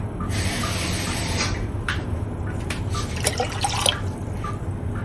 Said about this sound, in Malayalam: ഞാൻ കുറച്ചധികം വെള്ളം ഒഴിച്ച് കൊടുക്കുന്നുണ്ട്